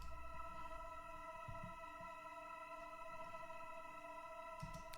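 A soft, sustained synth drone pad built from a tweaked Choir preset in Sytrus within FL Studio, holding steady layered tones for the whole stretch at low volume, alone with no voices.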